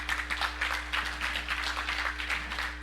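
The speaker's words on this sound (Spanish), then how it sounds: "Denle un aplauso fuerte al Señor" A church congregation claps and applauds together at a service, a steady dense patter of many hands continuing throughout, fairly loud and without speech over it.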